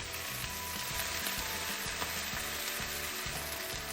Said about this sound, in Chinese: 咱们先把这油菜再稍微炒一下